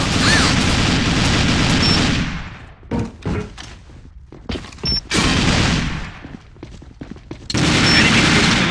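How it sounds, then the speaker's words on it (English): Heavy bursts of gunfire from an online first-person shooter with an M2A2 carbine, a long loud barrage at the start, then scattered shots and booms in the middle, and another sustained volley near the end. "He's firing!"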